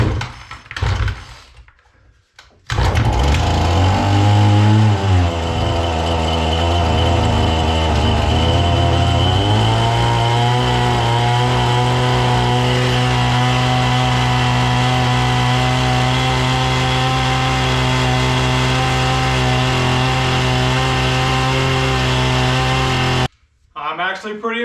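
A Husqvarna string trimmer engine cold starts after a few pulls, then roars loud and close, buzzing steadily for about twenty seconds before it cuts off.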